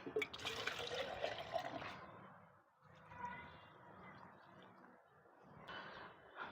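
Water poured from a container onto dry seedlings in a home garden, a close splashing and trickling stream that pauses briefly and resumes, with faint speech in the background.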